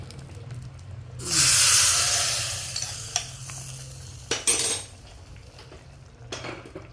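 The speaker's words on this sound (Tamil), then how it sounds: "அதுங்கள தாளிச்சிடுவோம் தாளிச்சிட்டு தான் பருப்பு போடணும்" Spices and small onions hit hot oil for tempering with a sudden loud sizzle that gradually fades, followed by a few spoon clinks and stirring scrapes in the pan.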